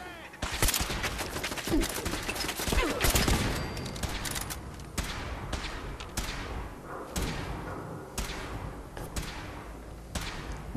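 Rapid bursts of gunfire from a Fallout 4 firefight, sharp repeated shots and thuds dense in the opening seconds, then spaced louder reports and echoing blasts, with faint voices underneath.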